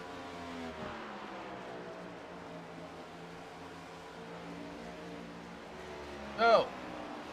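Race cars hum faintly at a distance during a late-race stretch near lap 60, a steady engine drone under a crowd and commentary backdrop, with one louder burst near the end.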